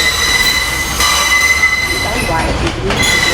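A New York subway train pulls out of the 161st Street–Yankee Stadium station, its wheels squealing loudly on the rails over a steady rumble, with a brief voice heard over the noise.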